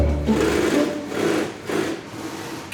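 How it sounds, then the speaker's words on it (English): Many sewing machines run together in a rucksack factory sewing room, making a dense, steady mechanical whirring and rattling that swells and eases in waves, close and loud with no talking. "that's the sound of lots of sewing machines all working at the same time"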